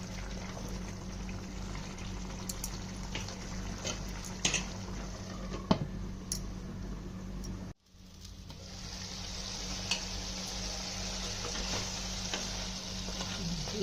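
Mutton curry with masala cooks in a pan with a continuous moderate sizzle, soft stirring clicks and scrapes scattered throughout, and a brief dropout midway before the frying noise returns.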